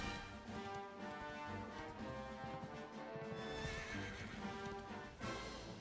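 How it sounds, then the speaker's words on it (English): A horse in the video game Dragon Quest 11 neighs and whinnies while its hooves clip-clop steadily, close and clear for nearly six seconds over a sustained tonal game backdrop, with no talking. "I am on a horse and my horse is amazing."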